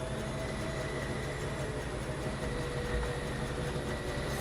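A train rolls past in the factory-building video game Foundry, a continuous low rumbling drone with steady mechanical hum and faint tonal whine, even in loudness throughout, with no talking.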